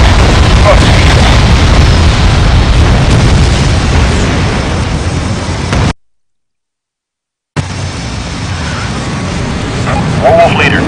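Bombs dropped by enemy bombers exploding in the air-combat game Ace Combat Assault Horizon, a loud, continuous rumble of heavy blasts that cuts out abruptly to silence and then resumes.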